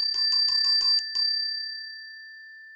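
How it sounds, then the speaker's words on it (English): A small hand bell rung briskly about six times in quick succession, bright and close, then left to ring out in a long, slowly fading shimmer with no talking. "I know Amelia has that bell ready to ring"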